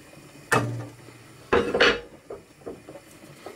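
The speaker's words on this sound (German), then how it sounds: "Und das Ganze dann auch schön unterrühren." A spoon clinks and scrapes against a pot while dill is stirred into a sour cream Berlin dill soup, with a few distinct knocks and then softer taps and rustles.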